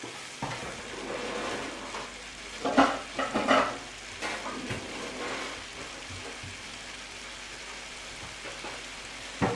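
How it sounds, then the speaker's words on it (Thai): German sausage and sauerkraut simmer covered over low heat, giving a soft, steady hiss with gentle bubbling and a few brief louder crackles, with no voices. "ปิดฝานะคะแล้วก็ตุ๋นนะคะด้วยไฟอ่อนๆ นะคะ"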